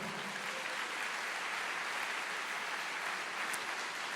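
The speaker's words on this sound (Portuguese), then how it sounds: "aplauda o Senhor" Church congregation applauding during a sermon, a continuous, uniform wash of clapping, moderately faint and unbroken, with no speech over it.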